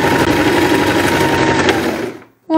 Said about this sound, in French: je vais coudre sur une dizaine de centimètres